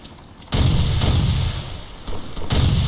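Explosions and heavy in-game combat blasts in the military shooter ARMA II, a sudden loud boom at half a second followed by sustained rumbling roar, then another strong burst near the end.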